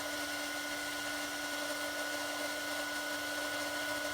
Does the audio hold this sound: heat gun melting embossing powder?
yes